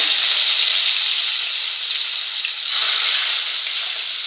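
Grated onion and curry leaves go into hot oil with mustard seeds and cumin for a Kathiawadi corn-poha dish, giving a steady, bright hiss of frying throughout without pause or voices.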